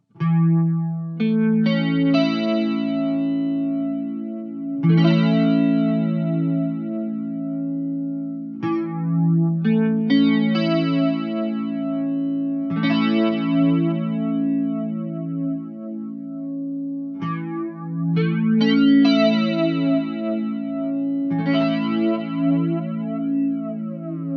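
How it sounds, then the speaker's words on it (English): Electric guitar chords run through a TC Electronic SCF chorus modulator and flanger, the comb-filter sweep whooshing across the tone as each strummed chord sustains, loud and continuous with no voices. "above 3, you start to hear the effect of those comb filters working their way across the frequencies"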